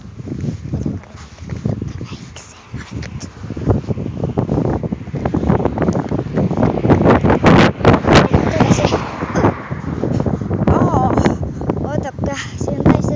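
Strong wind blasts straight into an outdoor microphone, producing loud, continuous rumbling buffeting with gusts that swell and surge throughout, while a voice speaks faintly under the roar.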